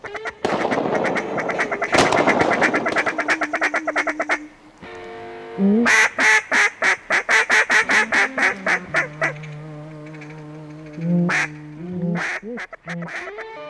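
Repeated duck quacks and calls during a Kansas waterfowl hunt in timber, loud and close, in rapid strings with rhythmic bursts, some sounding like call imitations; a sharp bang occurs early on.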